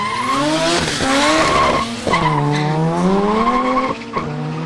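Cars launching in a drag race, an RX3 rotary among them, with loud revving engines whose pitch climbs and drops through gear changes, mixed with tire squeal, close and sustained.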